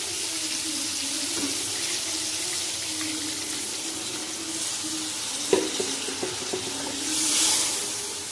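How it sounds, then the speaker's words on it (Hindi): Water pours steadily into a cooking pot of aloo mutter gosht, a continuous splashing rush, joined by a few small clinks and a brief hiss near the end. "अब इसमें शामिल कर देंगे पानी"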